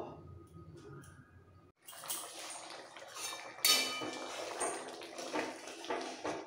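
Water poured into a pan of potol and prawn curry: after quiet kitchen sounds, a rushing splash and gurgle begins, with a sharp metallic clink midway, fairly near and moderately loud, with no talking.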